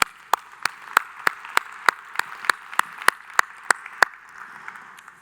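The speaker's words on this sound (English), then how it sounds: "Round of applause for all of us." Sparse, evenly spaced claps from a small conference audience at a GEOINT welcome session, about a dozen sharp hits in a steady rhythm over a quiet background.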